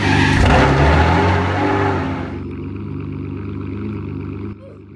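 Car engine in the Driving Empire video game starting up and revving, a loud roaring burst that falls back to a steadier idle rumble and then cuts lower near the end.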